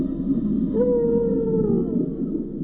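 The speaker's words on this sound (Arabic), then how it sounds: "تمر الحيتان الحدباء قبالة جزر فيرجن كل سنة وأغانيها معقدة جدا" A humpback whale sings off the Virgin Islands near a shipwreck at night: a long, clear, rising-then-sustained tonal moan over a steady low rumble of water, loud and unbroken for a couple of seconds.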